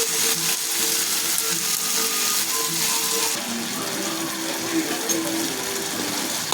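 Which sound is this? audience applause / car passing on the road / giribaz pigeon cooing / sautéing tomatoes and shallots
sautéing tomatoes and shallots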